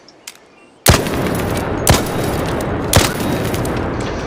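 Anvil Splitter with a muzzle brake fires in a video game: three loud, sharp shots about a second apart, each trailing a long roaring echo, with faint clicks just before.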